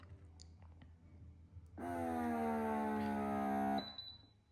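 A sealing machine gives a loud, steady beep of about two seconds at close range, followed by a faint high tone; quiet clicks and handling come before it.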